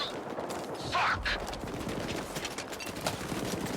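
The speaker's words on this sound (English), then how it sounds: "Hey, I hear the gunshots" Gunfire in the video game STALKER 2: a dense, busy stretch of shots rattles continuously through the clip, with a louder burst near the start and repeated cracks that come in quick, overlapping volleys.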